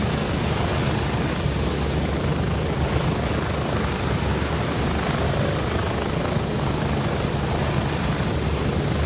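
A helicopter arriving in Gray Zone Warfare, its loud continuous rotor and engine roar steady and close for the whole stretch, with no talking over it.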